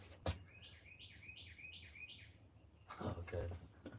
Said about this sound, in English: I heard the birds doing something out there.